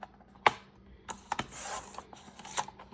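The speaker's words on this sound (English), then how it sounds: "I'm going to cut it from corner to corner" Paper being cut from corner to corner with scissors for an art journal project: a few quiet snips and light rustles, sparse and close.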